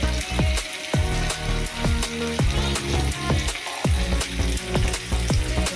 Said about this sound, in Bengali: চিকেনটা একটুখানি ফ্রাই করে নিচ্ছি